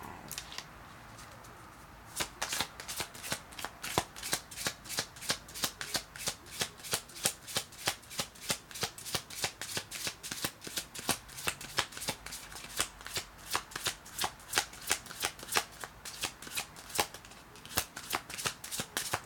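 A deck of cards is shuffled for a card reading: a long run of rapid, even riffling bursts, close and crisp, repeating steadily after a short quiet start, with no talking.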